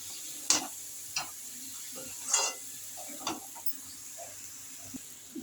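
A spoon scrapes and knocks through lote fish and potatoes frying in a pan, producing sparse, faint clinks and stirring strokes over a soft, low sizzle.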